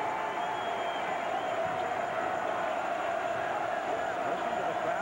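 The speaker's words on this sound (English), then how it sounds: "Listen to the crowd in the assembly hall." A basketball crowd roaring in the Assembly Hall arena during an Illinois versus Michigan State game, a steady, dense wall of cheering voices filling the space, loud and continuous throughout.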